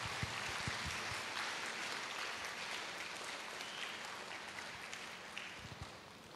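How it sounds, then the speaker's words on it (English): An audience at a motivational talk claps for the management, a faint, distant wash of applause that holds steady and slowly fades, with a few sharper low thumps near the start. "So please clap for the management for the wonderful initiative that has been taken."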